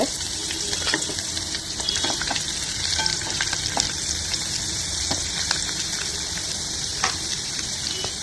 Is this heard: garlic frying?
yes